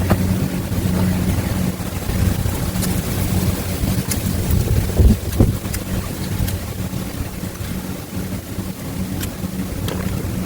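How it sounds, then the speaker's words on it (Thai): Strong wind roaring steadily outdoors, a dense continuous rushing that fills the whole clip with gusty swells and no talking. "ลมก็แรงสิละเกินครับพี่น้อง"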